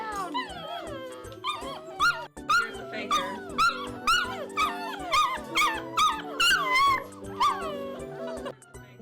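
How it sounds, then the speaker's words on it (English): Six-week-old Rottweiler puppies yip and whimper close by, a busy run of high, rising squeals and short yelps repeating nearly every half second, with faint voices underneath. "We have 10 Rottweiler puppies that were born about 6 weeks ago."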